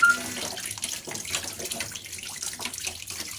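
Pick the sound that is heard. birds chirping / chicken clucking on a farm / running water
running water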